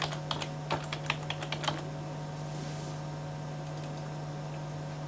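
Quick bursts of typing on a computer keyboard, a dozen or so close key clicks in the first two seconds, then only a steady low hum.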